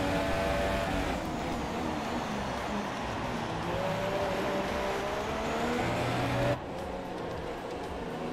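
Formula 1 cars race in the F1 2017 video game at the Spanish Grand Prix, a dense, steady engine whine and drone that drops abruptly to a quieter level near the end.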